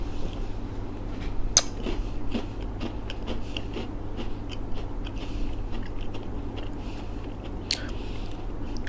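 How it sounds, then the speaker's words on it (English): A crunchy Korean snack is bitten and chewed close up, with sharp crackling bites and repeated crisp crunches over a low steady hum, no talking. "So when your first bite, you will feel that it is crunchy, very crunchy"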